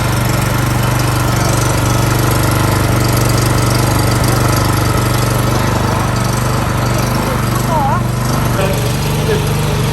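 A BCS 710 two-wheel tractor engine runs loud and close, holding a steady, rough, throbbing drone that lasts the whole time.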